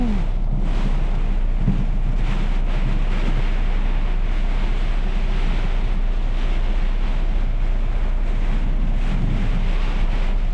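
Heavy nighttime rain pours down in Texas, a dense, steady roar that stays loud and unbroken throughout, with no voices over it.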